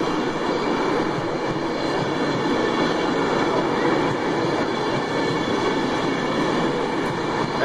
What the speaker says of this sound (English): Right, Pendolino coming in.